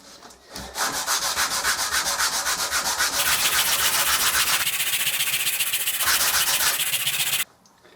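A wooden knife scale is rubbed flat on an abrasive surface, making a loud, steady rasping scrub of rapid back-and-forth strokes that runs continuously and then stops abruptly.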